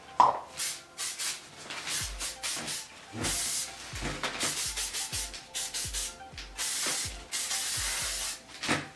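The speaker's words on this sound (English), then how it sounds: "And then for hairspray, I use the Big Sexy Hair hairspray." Big Sexy Hair hairspray sprayed onto thin hair in repeated bursts of loud, airy hissing, some long and some short, with soft rubbing and handling noises in between.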